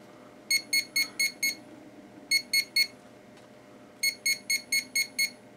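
A $25 handheld metal detector held over clay-rich dirt gives bursts of sharp electronic beeps in quick groups of five, three and six, loud and close with no talking.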